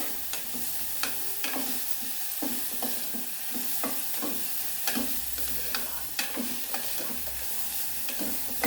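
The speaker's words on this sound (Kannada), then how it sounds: "ಫ್ರೈ ಮಾಡ್ತಾ ಇದ್ದೀನಿ" Drumstick pieces frying in a pan until golden, a constant close sizzle with repeated soft scraping and stirring taps throughout, no voices.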